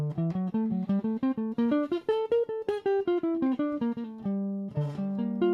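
A fast melodic minor guitar lick, notes plucked in quick succession, clean and close, rising then falling before settling on a held note; played alone.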